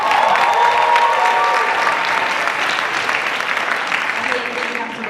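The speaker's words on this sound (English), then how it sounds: "Guys, I need a clap now." Steady applause from a summit audience, dense and continuous for the whole stretch, with a faint tonal voice or music line near the start and easing slightly toward the end.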